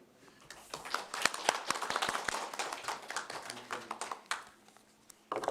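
Several people in a Korean city council committee meeting clap for a retiring official, a modest, fairly close round of hand claps that swells, thins out and stops before a brief final burst.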